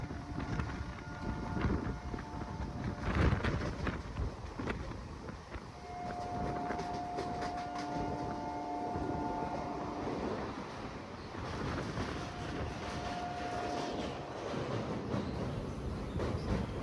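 A MEMU passenger train runs between Cuttack and Puri, its carriage filled with a steady rumble and wind rush, with faint tonal whines and occasional louder clatter as it moves along.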